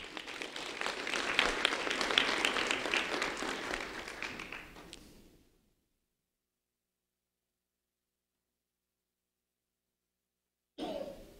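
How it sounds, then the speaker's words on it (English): An audience at a sheriff's office youth recognition ceremony applauds a third-grade student, a dense burst of clapping that fades out after about five seconds, followed by silence and a brief noise at the end. "A round of applause for Ashley Laura"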